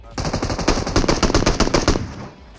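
Rapid burst of automatic fire from a 50-round gun in PUBG Mobile, a loud, close rattle of quick shots lasting about two seconds before cutting off.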